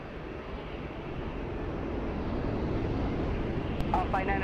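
Airliner at Lisbon Airport, its engines a steady broad roar that builds slightly and holds loud throughout, with a faint tonal whine joining near the end.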